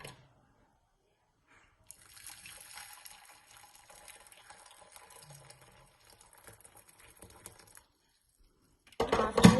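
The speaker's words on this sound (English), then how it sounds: "then pour it into our beakers" Boiled purple cabbage water is poured into beakers in an at-home chemistry lab, giving a soft, steady trickle and patter for several seconds before a sudden loud clatter at the very end.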